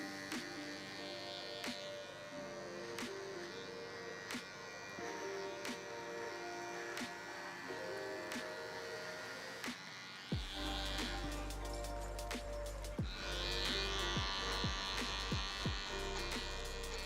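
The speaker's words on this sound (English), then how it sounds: "grab my cordless detailer LI and just come and remove all the bulk from our nape area" A cordless hair detailer trimmer buzzes steadily as it cuts bulk from the hair at the nape, a soft close hum with brief clicks and scraping strokes that grows louder and denser partway through.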